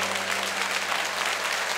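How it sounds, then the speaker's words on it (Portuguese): An audience at an evening church worship service applauds continuously. The clapping is dense and loud, with a steady low hum beneath it. "Aplaudiu, né?"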